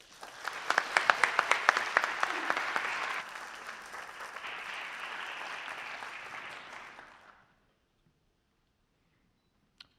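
An audience applauds to welcome a speaker to the stage at a university talk, with steady, fairly close clapping and a few sharp claps early on. It fades out and leaves silence.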